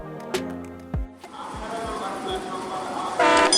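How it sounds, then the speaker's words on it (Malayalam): A short Indian Railway train horn, sounded when the train reaches the yard after cleaning, gives brief clipped toots that are loud and close. A longer blast follows over rumbling yard noise. "ഈ കുഞ്ഞു ഹോൺ മുഴക്കുന്നത് ട്രെയിൻ യാർഡിലെത്തി ശുചീകരണ പരിപാടികളെല്ലാം പൂർത്തിയായി"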